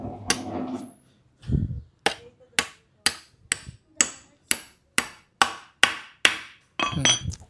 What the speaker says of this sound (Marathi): मग आपण फायनली अजून एक खिला मारून एकदम फिट करणार आहोत